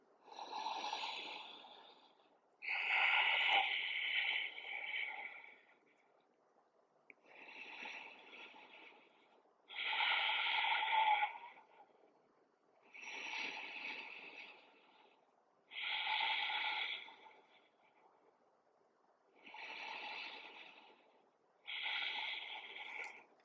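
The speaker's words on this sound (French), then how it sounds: "5 respirations profondes et longues." Deep, long breaths drawn during a low lunge hip-opening yoga stretch, about eight slow inhale-exhale swells spaced a few seconds apart, soft and close with quiet pauses between, no talking.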